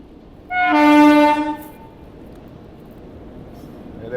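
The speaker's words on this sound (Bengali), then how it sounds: "ট্রেন চলে যাচ্ছে" A train passing through Jethian Valley in Bihar sounds a loud, sustained horn blast of about a second. A low rolling rumble continues afterward.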